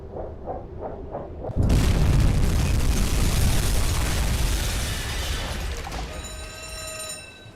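A torpedo slams into a ship in the submarine game UBOAT: a few soft pings precede a sudden, massive booming explosion that rumbles on heavily for several seconds before fading, with faint tonal beeps near the end.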